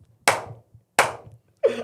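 Sharp single hand claps ring out in a small room, two crisp claps about a second apart, followed by a third duller, fuller clap.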